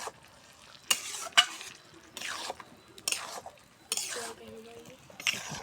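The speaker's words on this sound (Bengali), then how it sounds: "দেখুন আলুটা কষিয়ে নেওয়া হবে এখন।" Potatoes and tomatoes with spices stir in a hot pan, each scrape of the spoon against the pot coming in short bursts with a soft sizzle between them, close and fairly quiet.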